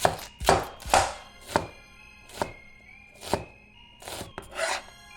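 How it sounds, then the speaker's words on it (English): Onions and shallots chopped with a knife on a cutting board, a run of about eight crisp, close knocks spaced unevenly with a short rasp after each stroke, no voices. "Onions diced. Also gonna do a little bit of shallot."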